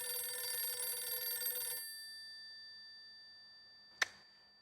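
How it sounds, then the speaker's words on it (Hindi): A telephone bell rings loudly and steadily for nearly two seconds, then stops, followed by quiet and a single sharp clack near the end. "फोन बज रहा है"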